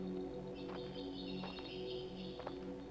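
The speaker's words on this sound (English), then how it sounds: "we can hear some birds" In a quiet wilderness in the game Gore, a few faint bird chirps sound over a steady low ambient hum, spaced a second or so apart.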